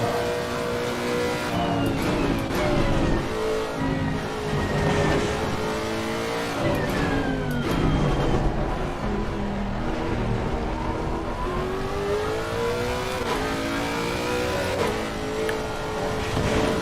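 Race cars in a sim racing video game at Misano, several engines revving and whining continuously through gear changes in a close battle, loud and unbroken with no talk.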